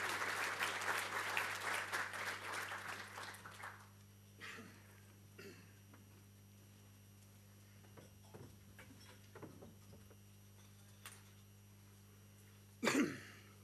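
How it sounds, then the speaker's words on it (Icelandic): Audience at an annual general meeting gives a burst of clapping that fades after a few seconds, followed by a quiet room with scattered coughs and small noises. "Gefum gott klapp."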